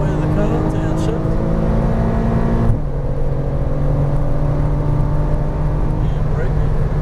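A Porsche Cayman R engine revs hard under acceleration on a cone course, then a clear gear shift drops the pitch partway through, and the engine continues pulling loudly and close.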